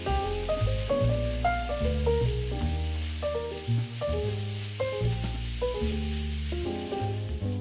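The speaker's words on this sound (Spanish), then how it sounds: "echaremos los pimientos y dejaremos que se vaya sofriendo" Onion, garlic and peppers fry in a pan with a soft, steady sizzle, largely overshadowed by louder melodic music throughout.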